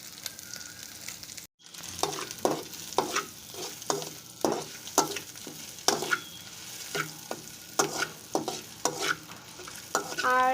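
Scrambled egg poured into a hot frying pan and stirred, steady sizzle beneath regular close scraping strokes of a spatula, each stroke distinct and rhythmic after a brief silent gap at the start.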